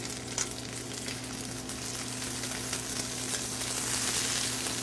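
Potato pierogi frying with onions in a pan, a dense continuous sizzle and crackle close up, with a low steady hum beneath and no voices.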